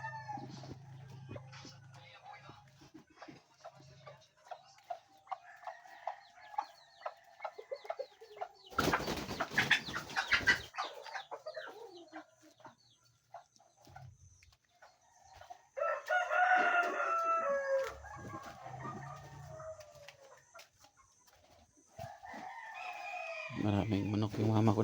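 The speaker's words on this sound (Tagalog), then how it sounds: "Maraming manok yung mama ko dito pang ano, pang katay" Backyard chickens raised for slaughter cluck and chatter at a house while roosters crow loudly in several long calls, with a brief rough burst of handling noise and some quiet talk between calls.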